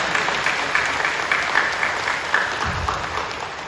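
A congregation applauding during a Korean church worship service, steady sustained clapping from many hands filling the room for several seconds.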